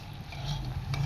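Jalebi frying in hot oil until deep red, a steady low bubbling sizzle with a faint stir toward the end.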